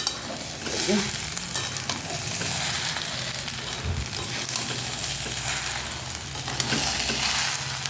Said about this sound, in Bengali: দু হাতে ধরে ভালো করে নেড়ে নিই